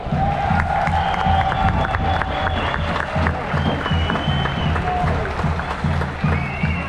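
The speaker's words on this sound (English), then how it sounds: "Big round of applause again." An outdoor crowd at a freedom march claps and cheers continuously, a loud, dense roar of hands with shouts rising through it, sustained from start to finish.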